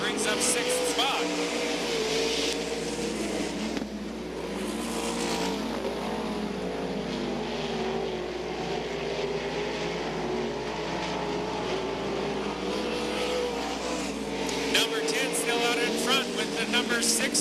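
Dirt track race cars roar around Gallatin Speedway in Belgrade, Montana, engines droning continuously and swelling as they pass, while an announcer talks steadily over the racing.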